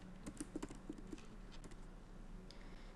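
Keystrokes on a computer keyboard while a customer's mobile number is entered into GST billing software, a quick cluster of light clicks early on, then sparser taps over a low room hum.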